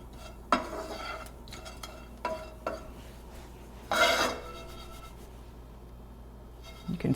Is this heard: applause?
no